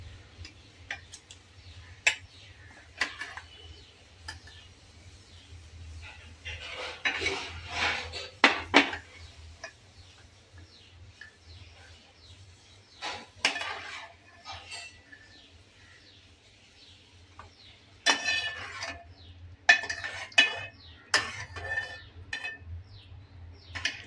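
Cooked chicken pieces lifted out of a cooking pot for Kolhapuri chicken sukka, with scattered metallic clinks and taps of utensil against the vessel, some sharp and close, over a low steady hum.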